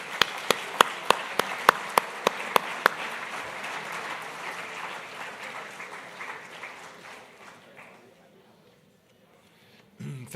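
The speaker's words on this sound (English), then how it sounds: "please join me in another round of applause for Ambassador Huckabee." Audience applause for an ambassador at an international policy summit plenary: a dense crowd of clapping with a few sharp, regularly spaced louder claps up close, tapering off gradually into near quiet.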